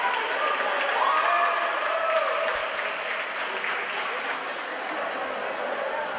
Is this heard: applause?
yes